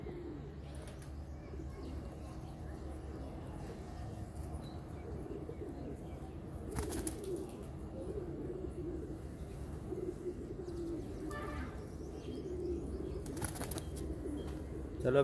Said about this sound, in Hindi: जी यहाँ पे भी काफी कबूतर कलाबाजियां खा रहे